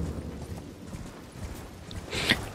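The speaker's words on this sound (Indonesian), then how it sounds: "Bisa berkuda kita, nggak usah jalan kaki, capek. Bisa ngebut deh." A horse galloping while ridden in Elden Ring, its rapid hoofbeats drumming steadily at moderate volume, with a brief brighter chime near the end.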